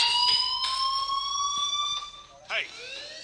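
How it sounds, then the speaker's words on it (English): A fire alarm in the Life is Strange video game rings with a steady, continuous electronic tone, loud and close. A voice speaks briefly over it near the end. "do you hear that fire alarm?"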